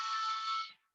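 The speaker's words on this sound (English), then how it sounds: "that's the alarm to go pick up my kids" A phone alarm rings as a steady, bright electronic tone that holds loud and close for most of a second, then fades out quickly.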